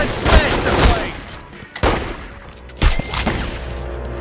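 Gunfire in The Godfather II video game set in Florida: three sharp, loud shots spaced about a second apart, each ringing briefly over low ambient game sound.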